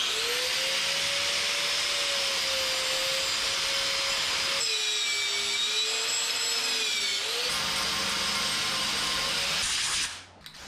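Spray paint applied to a car part during an engine and battery tray build: a steady, loud hissing spray runs continuously with a faint tonal whine, shifts briefly midway, then cuts off near the end.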